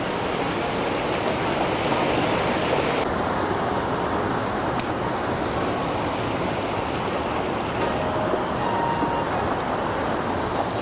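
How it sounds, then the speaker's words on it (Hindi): Bhalu Gaad waterfall in the hills near Mukteshwar, Uttarakhand, roars as a loud, dense, unbroken wash of falling water that holds steady throughout with no voices. "ये सामने वाटरफॉल।"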